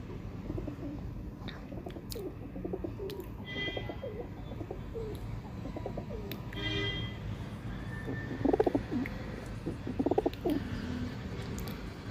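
Pigeons coo in low, throaty bursts over a steady background murmur, with a couple of louder coos standing out near the end and faint chirps above.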